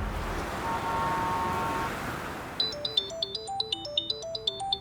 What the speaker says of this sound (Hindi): यार घर से बार बार फोन आ रहा है।